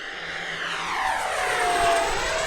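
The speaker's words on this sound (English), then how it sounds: "this is a nice flying jet" An RC MiG-29 model jet flies past, its loud whining turbine-like roar sweeping in pitch as it passes overhead and away, with no talk.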